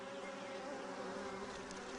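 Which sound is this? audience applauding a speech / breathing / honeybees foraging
honeybees foraging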